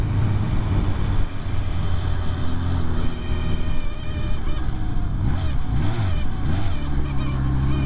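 A vehicle gives off a steady high-pitched squeal with wavering tones above a loud engine drone as it drives along, continuous throughout and with no talking.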